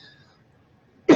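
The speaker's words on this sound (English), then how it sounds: "I seem to only be coughing when I'm recording today." A woman gives a single sharp cough at the very end of an otherwise near-silent moment, close and loud.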